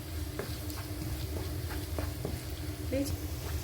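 Spicy chicken with small onions is stirred in a frying pan, with spatula scrapes and taps repeating about every second over a soft sizzle, and a brief voice sounds near the end.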